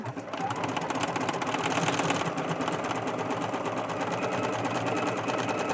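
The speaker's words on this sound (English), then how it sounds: "I'm gonna zigzag sew quickly right across that bottom little bit." A sewing machine runs a close zigzag stitch across the bottom edge of an upcycled boho pixie skirt, a steady, continuous rapid whir heard up close with no talk.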